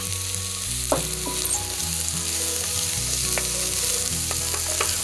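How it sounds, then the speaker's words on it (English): Chopped onions sautéing in about two tablespoons of olive oil in a hot pan for pineapple fried rice, a steady close sizzle with scraping stirs and soft clicks of a utensil against the pan. "We're going to constantly stir these to make sure the onions aren't burning."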